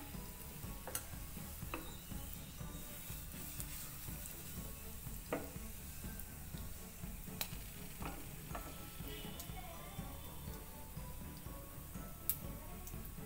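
A spice tempering of oil with a pinch of asafoetida and turmeric sizzles steadily, with faint clicks and taps of a utensil scattered through the quiet, continuous frying hiss.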